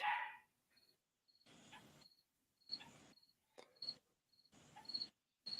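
A dog barks in several short bursts, fairly distant and quiet, over the steady chirping of crickets.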